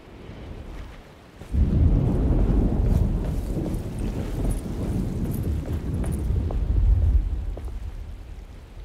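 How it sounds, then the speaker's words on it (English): Heavy rain and rumbling thunder in the Alone in the Dark video game: a low roar swells in suddenly after a quieter start, then holds steady, loud and broad, with wind-like gusts. "Just keeping an eye out for the storm."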